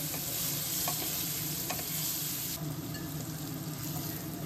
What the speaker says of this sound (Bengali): তাতে ডুমো করে কেটে রাখা আলুগুলো নুন এবং হলুদ দিয়ে ভেজে নেব।